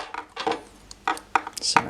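A homemade metal tool for a Saab 9-5 Aero oil pressure sensor clinking and clattering against a bare table in a few sharp, close knocks and rattles, with no talk over it.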